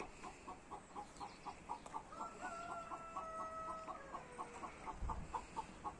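Chickens cluck and chatter repeatedly in a yard shared with roosters and ducks, with a rooster's call rising briefly over the flock and a soft thump near the end.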